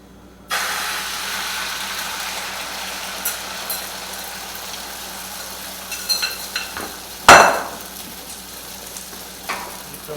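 Eggs for an omelette hit a hot pan and start frying with a sudden, steady sizzle, close and continuous, broken by a few scraping stirs and one sharp clatter.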